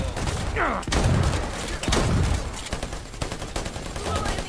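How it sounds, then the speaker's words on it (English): Shotgun blasts in the video game Predator Hunting Grounds, three loud sharp reports spaced about a second apart, each with a boomy low tail, amid game noise. "the shotgun is fucking awesome"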